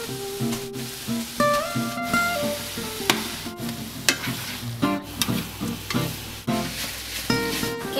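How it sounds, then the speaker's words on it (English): Rice stir-fries with melted butter in a pan, sizzling steadily while a utensil clinks and scrapes in irregular strokes, close up, with faint tonal background sounds and no talking. "Then we have to stir that for a little bit and then add the sauce."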